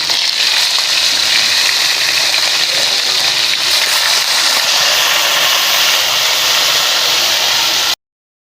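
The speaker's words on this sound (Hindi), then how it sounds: "अब हम डालते हैं इसमें गोश्त, जो कि अच्छी तरह हो जाता है फ्राई" Mutton pieces frying in hot oil in a pan, a loud, dense, continuous hiss and sizzle held steady close up, then cutting off abruptly.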